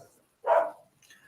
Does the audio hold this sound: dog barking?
yes